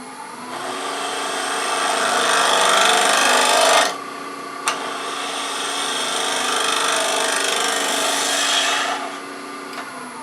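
Wood lathe cutting on a turned wooden acorn box, a steady loud rasping and scraping with a brief pause midway, then a second long cutting pass that fades out.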